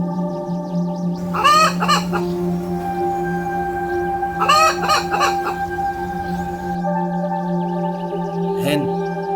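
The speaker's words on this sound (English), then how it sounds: "Hen." Chickens cluck loudly and close in a farmyard, a hen's bursts of clucking repeating in short rhythmic runs over a steady background hum, with a brief sharper call near the end.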